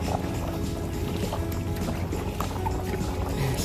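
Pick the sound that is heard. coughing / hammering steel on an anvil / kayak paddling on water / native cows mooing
kayak paddling on water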